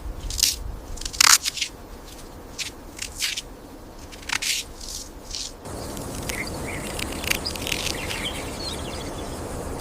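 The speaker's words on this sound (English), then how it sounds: "She knows how to peel away the bitter rind to reach the sweetness within" Someone peels away a bitter fruit rind and eats, making crisp tearing snaps and crunchy bites up close. Partway through, these give way to a steady outdoor bed of chirping insects.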